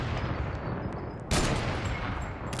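Sustained gunfire in Fortnite, dense rapid shots running continuously with a louder burst partway through, close and loud throughout.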